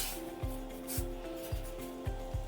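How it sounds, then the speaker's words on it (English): Flour worked into melted butter with a spatula for a Danish meatball and dumpling soup: soft, steady scraping and rubbing with rhythmic strokes roughly every half second, close up and fairly quiet, no talking. "add in our flour, stirring vigorously with the spatula to get all the flour to absorb"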